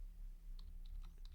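Faint, quick keystrokes on a computer keyboard, a short irregular run of light clicks against a low background hum, with no voices.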